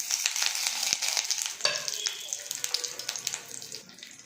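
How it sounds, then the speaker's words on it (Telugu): Mustard-type tempering seeds and curry leaves sizzle in hot oil over a low flame for a coriander chutney, a steady close crackling hiss with scattered pops throughout. "ఇప్పుడు తాలింపు గింజలు కరివేపాకు పోపుకి చిన్న మంట మీద వేసేయాలి"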